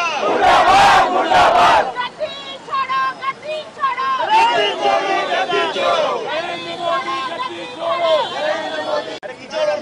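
A large protest crowd at a petrol pump rally over fuel prices loudly chants rhythmic slogans against the BJP and Shiv Sena, with shouted calls and voices overlapping throughout.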